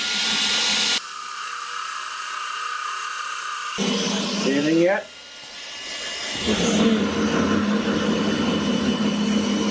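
A drill bit boring through wood in a workshop, a steady whining drive that rises and shifts in pitch as it cuts, with a person briefly speaking over it.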